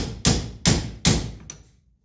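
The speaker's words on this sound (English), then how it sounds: "Take a socket that fits over it, kind of drive this back on to the splines" A socket is hammered to drive a spacer back onto splines, probably during a brake master cylinder swap: three sharp metallic blows about 0.4 seconds apart, then a fainter fourth tap, close and alone.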